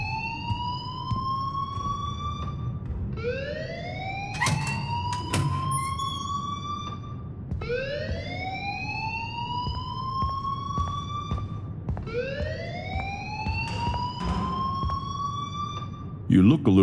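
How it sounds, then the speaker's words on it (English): In the video game Life Is Strange, an alarm siren wails in a loud, repeating rising sweep, cycling about every four seconds, with voices talking underneath. "please turn off that alarm since that's your job"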